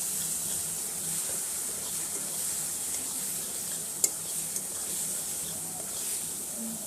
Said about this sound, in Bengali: ভালো করে মশলাটাকে একটু কষে নিচ্ছি।